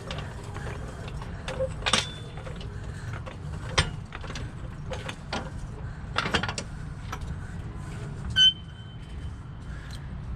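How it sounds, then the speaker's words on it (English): A jack raising a 2007-2014 Chevy Tahoe clicks and ratchets in irregular metallic strokes, with a few sharper clanks, close up and without talk. "So we need to jack this thing up a little bit."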